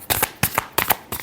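A deck of tarot cards given a final shuffle, four sharp riffling bursts in quick succession, close and fairly loud, with no voices.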